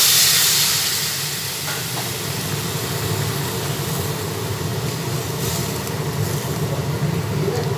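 A small amount of water added to a hot pan of omelette curry with pumpkin sets off a loud, steady hiss of steam and sizzle that fades slightly, then holds evenly throughout.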